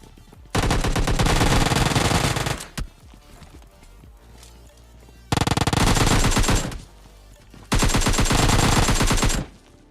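Automatic gunfire in the mobile battle-royale game PUBG Mobile Lite comes in three loud, sustained bursts of rapid shots, separated by quieter stretches of footsteps and game sounds.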